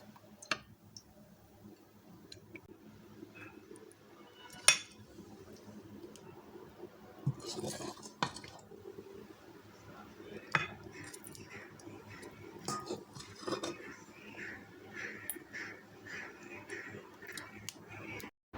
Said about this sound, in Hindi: अब हम इसको प्लेट में डाल लेते हैं।